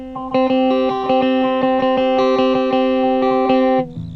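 A distorted electric guitar chugs out a short, steady riff of rapid picked notes, then cuts off abruptly at the end.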